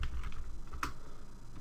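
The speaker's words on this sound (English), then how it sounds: "This can be done by typing shutdown" Keys tapped on a computer keyboard while typing a shutdown command at a Linux server console: a few light, close clicks in a quiet room with a faint background hum.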